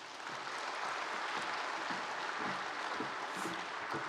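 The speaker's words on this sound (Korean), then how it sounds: "우리 감독님 나오실 때 박수로 영접해 주시기 바랍니다" A church congregation applauding to welcome the preacher at a Sunday service, a dense, steady burst of clapping filling the room for several seconds without speech.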